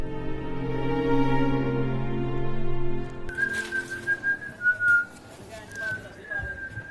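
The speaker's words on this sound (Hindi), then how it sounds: "मोहल्ले में सीटियां नहीं मारते किसी रैफली के बच्चे।" Someone whistles in a residential neighbourhood, a clear sustained tune that wavers in pitch after a low droning tone, with other sounds around it.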